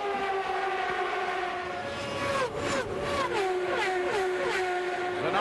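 A CART open-wheel race car at the 1996 Rio round braking hard into a corner, engine tones sliding down in stepped pitch drops against a steady loud engine drone, with no one talking.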